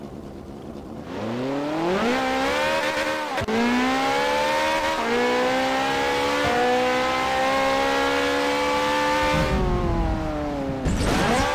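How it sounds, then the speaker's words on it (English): Ferrari racing car in Garry's Mod, its engine revving up through several gear changes with rising whines, loud and close, ending in tire squeal and a harsh scrape. "We've got the Ferrari racing car next."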